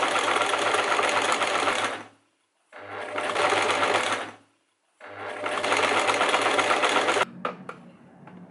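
A sewing machine stitches T-shirt fabric in three close, loud bursts of fast rattling whir, separated by brief silent pauses, ending with a few clicks and light handling noises.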